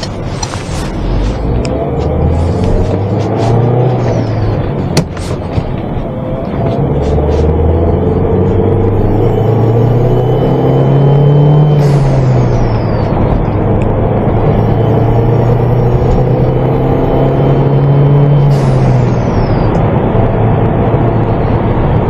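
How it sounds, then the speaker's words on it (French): A Peugeot 308 CC 1.6 THP fitted with a direct air intake pulls hard while driving, heard from inside. Engine drone climbs and drops in repeated swells, a loud intake roar throughout, with whooshing blow-off bursts between gears. "que vous aurez une petite idée voilà du bruit que génère cette admission directe"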